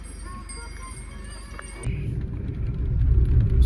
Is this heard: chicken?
no